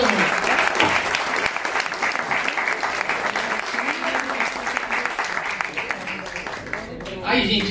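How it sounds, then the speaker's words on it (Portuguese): An audience at a Brazilian civic movement event gives sustained, steady applause for a young team, thick and continuous throughout, with some cheering near the end. "Então eu peço assim, uma salva de palmas, não só para o Neto, mas para toda essa equipe jovem do IEP"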